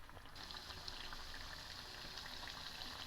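Ridge gourd bajji sizzle in hot oil with a steady, even crackle and hiss that holds from start to finish, close by and fairly quiet, with no voices.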